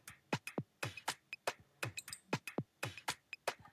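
A gospel-style beat loop, built in FL Studio and routed through a mixer channel with much of the low end cut, plays as a steady run of crisp, bright percussive hits with short tonal accents and thin bass, no voices.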